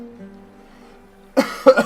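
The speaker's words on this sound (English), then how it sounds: "Sorry about the cough there." Two sharp coughs close to the mic after a quiet, faintly humming stretch, the second louder than the first.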